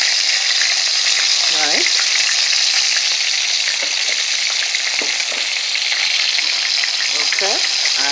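Browned chicken pieces for Jamaican brown stew chicken fry in a pot with a steady, loud hiss and crackle, close up, with occasional stirring clinks and a brief spoken word.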